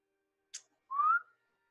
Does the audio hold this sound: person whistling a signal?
yes